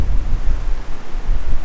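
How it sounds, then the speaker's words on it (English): Strong gusts of wind buffet the microphone beside a river, giving a loud, rumbling low roar that surges and dips continuously with no other sounds. "It's so windy out here that I can't fish anymore."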